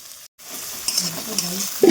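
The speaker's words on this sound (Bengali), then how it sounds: "নেড়ে চেড়ে পেঁয়াজ রসুনটা একদম লাল লাল করে ভেজে নেব" Chopped onion, garlic, tomato and green chilli frying in hot oil, a brief close hiss and sizzle that cuts out for a moment and resumes, with faint stirring scrapes.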